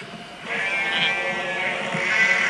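A Lego animation sheep bleats continuously at close range, one long wavering call that carries through the whole moment without pause.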